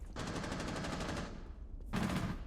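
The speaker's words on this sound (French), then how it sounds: "Et Vito, oh Vito pour coller un énorme headshot à Renshiro." Rapid automatic gunfire from Rainbow Six Siege during a pro esports match plays as one long sustained burst, a brief pause, then a second burst, loud and close.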